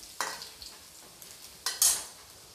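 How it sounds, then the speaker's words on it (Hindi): Finely chopped white parts of green onion hit a hot pan, with scattered light sizzling, a few utensil scrapes and taps, then a louder burst of sizzle near the end. "अनियन को भी मैं हल्का सा भून लूंगी।"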